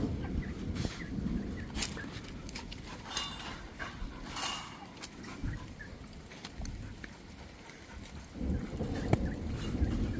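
Chickens cluck and squawk in a noisy yard, with scattered gobbling calls and a dog barking faintly amid rustling.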